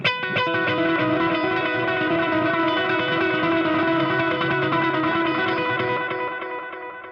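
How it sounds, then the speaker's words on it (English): A sustained, distorted electric guitar chord ringing out through a Digitech Obscura Altered Delay pedal in tape delay mode, its repeats smearing together before fading at the end. "Right now I'm using the tape delay"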